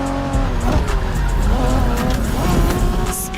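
Honda NSX from the 1990s driven in the racing game The Crew Motorfest, a loud continuous engine roar with shifting revs and tire squeal, with game voices speaking over it.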